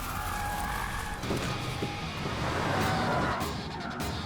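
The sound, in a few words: vehicle being turned, tires skidding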